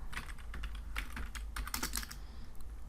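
Steady clicking of computer keys under a continuous low hum, quick irregular keystrokes typed while setting up OSPF in a Cisco router configuration, close and fairly loud throughout.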